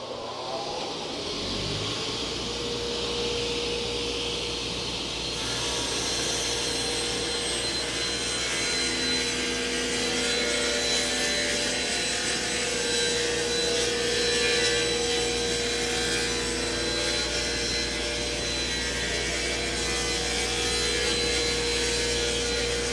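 A Striebig panel saw making its final cut through a butcher block top, with a loud, sustained whine of blade and motor plus dust extraction rising after the start and running steadily for over twenty seconds, without speech.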